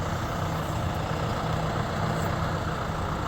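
John Deere 5100E tractor engine idling with a steady, loud, low rumble that continues unchanged throughout, with no voices.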